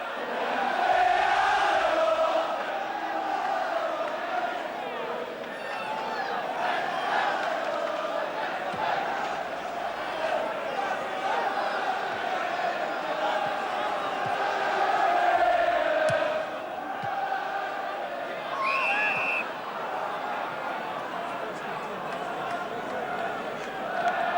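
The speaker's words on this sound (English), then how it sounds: "And listen now to the crowd." A football stadium crowd roars after Grimsby Town take the lead against Millwall, a loud, sustained, echoing swell of cheering and shouting that carries on for over twenty seconds with brief whistles.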